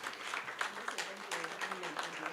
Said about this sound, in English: Yes, please clap for.